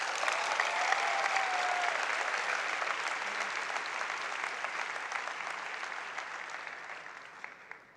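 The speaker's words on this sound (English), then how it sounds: "So please give everyone on stage a round of applause." An audience at a challenge-winner event gives sustained applause for a team on stage, a dense, even wash of clapping that stays steady for several seconds before slowly tapering off.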